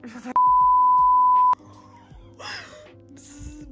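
A single steady electronic beep, loud and close, lasting just over a second, followed by quiet background sounds and faint voices.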